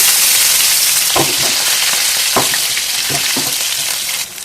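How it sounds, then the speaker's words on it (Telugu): Cumin seeds and cut green chillies fry in hot oil with a loud, steady close-up sizzle, broken by a few soft stirring knocks, and no voices. "కావాల్సినంత ఆయిల్లోకి వేసుకోండి కొద్దిగా జీలకర్ర కట్ చేసిన పచ్చిమిర్చి"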